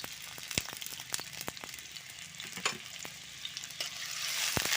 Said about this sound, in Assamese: ৰঙালাওৰ বাকলিখিনি সিজি যোৱালৈকে ভাজি ল'ম